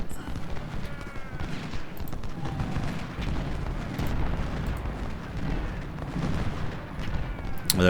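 Civil War artillery cannon fire in Ultimate General: Civil War at the Battle of Gaines' Mill, continuous booming volleys mixed with rattling musketry, dense and fairly loud throughout with a sharp burst at the close.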